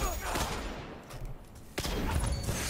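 Legendary Lingering Song hand cannon fires in a Destiny Crucible match, with a couple of sharp, punchy shots standing out from a busy background of game gunfire and effects.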